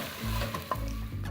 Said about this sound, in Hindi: इसको हम 5 मिनट तक फ्राई करेंगे ताकि प्याज और लहसुन अदरक की पेस्ट सॉफ्ट हो जाए।